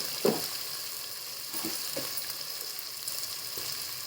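Onion and tomato sautéing in a pan for a spicy prawn rice, a steady close sizzle with a few soft stirring scrapes and no talking.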